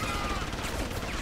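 Rapid video-game gunfire in Deus Ex: Human Revolution, a dense, loud burst of shots fired through a wall, continuous for the whole moment with no gaps.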